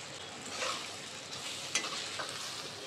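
Onion masala with homemade spice mix and salt fries and gets stirred in a pan, giving a soft, steady sizzle close by and a few sharp spatula scrapes, with no talking.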